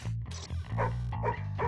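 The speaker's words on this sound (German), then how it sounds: "Ich hab einen Hund gefangen." Dog whimpers and yips in Madagascar: Escape 2 Africa, a string of short high cries over a steady low game music bed, close and fairly loud.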